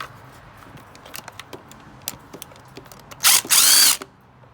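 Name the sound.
removing a 10mm bolt from a Hyundai Elantra engine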